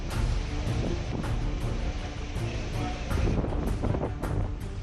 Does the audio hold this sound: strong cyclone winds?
yes